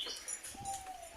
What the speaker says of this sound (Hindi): एक कबूतर है ना